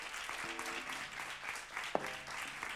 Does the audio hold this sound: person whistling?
no